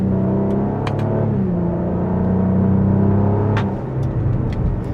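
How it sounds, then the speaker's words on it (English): A 2023 Cadillac CT4-V Blackwing sedan's engine accelerates under steady throttle, a loud, close rumble whose pitch climbs smoothly before easing back, with no talk. "Let's give it some gas."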